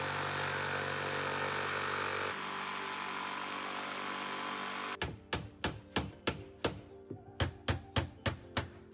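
Power saw cutting a 6mm plywood sheet for a sofa frame inside a Toyota Coaster bus conversion, a loud sustained whining cut that shifts pitch, followed by a rapid series of sharp, evenly spaced knocks.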